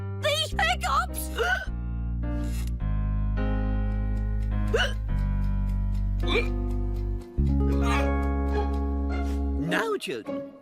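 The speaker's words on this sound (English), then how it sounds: "Oh, I've got to get rid of these hiccups!" A cartoon character hiccups repeatedly, short sharp vocal jolts scattered over a sustained musical score, with speech-like voice sounds mixed in.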